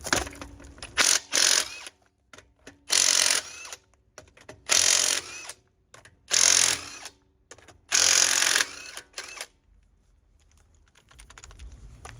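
A power tool, likely an impact wrench, taking the wheels off a 2020 Chrysler 300S in a garage, firing in five or six loud rattling bursts of about a second each with short pauses between, then falling quiet.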